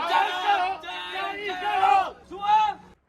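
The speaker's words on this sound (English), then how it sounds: "With a confident cheer, a team of rowers sets off at the crack of dawn" A team of dragon boat rowers raises a confident, loud group cheer at Budai Harbor at dawn, several voices whooping together in two bursts.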